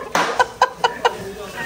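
A rooster in a village gives four short, evenly spaced clucks, fairly close, after a louder opening call, with background noise.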